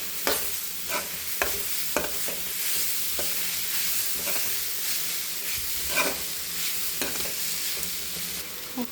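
Carrot egg podimas stirred and fried in a pan: a continuous hissing sizzle under repeated spatula scrapes and clinks against the metal, close and moderately quiet, with no speech.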